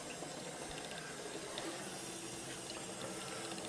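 Distillate trickles from the column of a moonshine still, a faint, close, steady patter of thin liquid flow with small splashy flickers and no voices.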